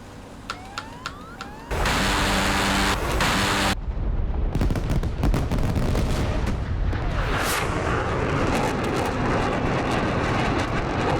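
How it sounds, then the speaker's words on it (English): An aircraft's gun strafes ground targets at high speed in the DCS combat flight simulator, a dense, loud, continuous roar of rapid fire and jet noise after a few quieter clicks at the start. "we're gonna give them a couple of high-speed passes with the gun and some flares"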